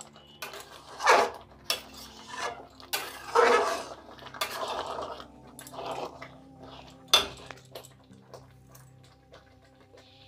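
Bottle gourd and rice payesh is stirred in a pot, making irregular scraping and knocking strokes at close range with a low rumble underneath.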